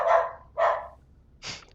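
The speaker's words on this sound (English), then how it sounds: "my dog is making a fuss" A pet dog barks three times close by, two full barks followed by a sharper, shorter yap, with quiet gaps in between.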